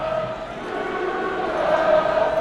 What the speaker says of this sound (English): the Chattanooga, their cheers kind of spread across the entire stadium